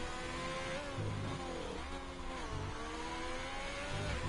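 Haas Formula 1 car in a racing video game, its engine droning steadily at high revs with rising and falling pitch through gear changes, close and continuous with no talking.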